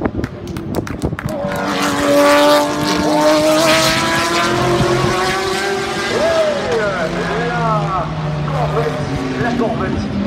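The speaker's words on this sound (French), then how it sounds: "le passage de la Porsche numéro 2 qui est en niveau en ce moment" A Porsche race car at the 24 Hours of Le Mans 2017 roars past, its engine note rising and then falling away with a Doppler sweep, loud, while a commentator talks over it.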